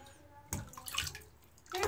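Water sloshes and splashes in short bursts as a pet snake named Pinecone is bathed, with quiet stretches between the louder splashes close by.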